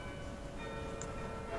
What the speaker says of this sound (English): as these bells are never going to stop by the sound of it